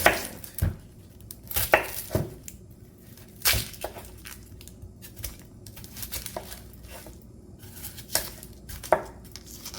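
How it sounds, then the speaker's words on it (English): Knife rough-cutting a couple of onions for iron skillet chicken, with sharp irregular chops striking the board, some spaced and some in quick pairs, close and fairly loud with no talk. "So I just want to rough cut a couple of onions."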